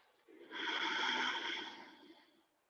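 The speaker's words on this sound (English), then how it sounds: "exhale and inhale through your nose" A single slow breath drawn in and let out through the nose, soft and close, a steady airy hiss swelling and fading over a couple of seconds during an Aikido standing exercise.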